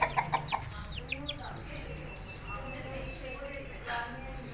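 A chicken in a backyard setting gives a few sharp clucks at the start, then softer scattered clucking, while someone talks over it in Hindi.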